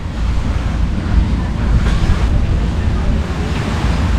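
Ocean waves washing in front of a beachfront bungalow by a pier on the Phi Phi Islands, Thailand: a steady, broad rush of surf mixed with wind buffeting the microphone, loud and continuous with no voices.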